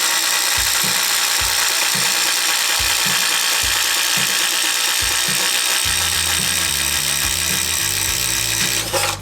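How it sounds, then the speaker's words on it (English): DeWalt XR cordless drill on a fully charged 5 amp hour battery in speed 3, boring with an Irwin 3/4 inch speed bore bit: loud continuous motor whine with repeated pulsing bursts as the bit bites, shifting to a steadier grinding load near the end. "first today we are going to go with a 3/4 inch speed bore bit from Irwin, and we're going to be running this first in the XR"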